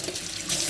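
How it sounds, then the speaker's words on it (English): Tap water runs hard into a sink while cups are washed under it, a loud, steady hiss that swells slightly toward the end. "I always wash the cups because then they are almost clean"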